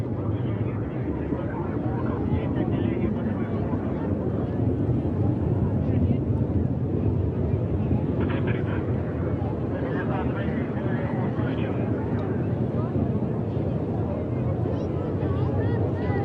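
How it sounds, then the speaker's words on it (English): Rocket second stage engine firing during a Progress cargo ship launch to the International Space Station from Kazakhstan, a steady broad roar with wind-like rumble continuing for the whole stretch, with no pauses. "Second stage engine up and running."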